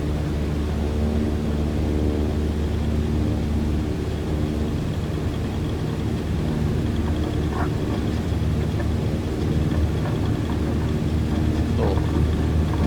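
A simulated light aircraft engine in Microsoft Flight Simulator drones at steady high power during a takeoff roll from a high-altitude runway without flaps, a loud constant hum with faint rumbling underneath.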